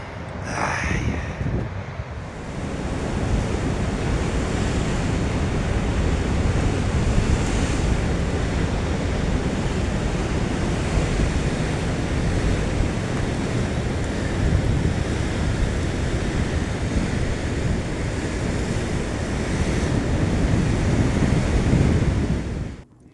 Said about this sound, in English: just look at that sea. Isn't it wild? I love the sound of that.